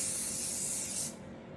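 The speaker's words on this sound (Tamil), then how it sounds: "இப்போ நான் ஸ்ப்ரே அடிக்கிறேன்." An aerosol hair spray is sprayed onto spiked hair in one continuous, close, bright hiss lasting about a second before stopping abruptly.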